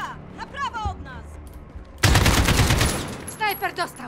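Voices talk briefly, then a sudden loud burst of rapid gunfire from the video game Call of Duty: Modern Warfare erupts and rattles on for a couple of seconds before talking resumes.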